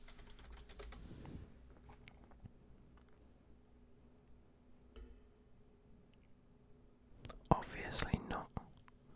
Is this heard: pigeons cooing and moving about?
no